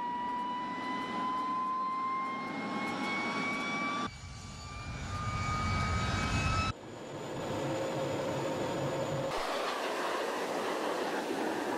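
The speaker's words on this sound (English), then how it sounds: "taking to the skies in this stunning 1952 night-fighting Meteor to give me my own private jet flypast" A 1952 night-fighting Meteor jet aircraft makes a flypast, a loud sustained jet roar with a rising whine that swells and shifts in pitch as it passes and recedes.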